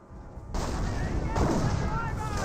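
Mortar half-track shelling in the Company of Heroes strategy game, with dense booming artillery fire and blasts rolling continuously over a low rumbling battle backdrop, loud and sustained after a quieter opening.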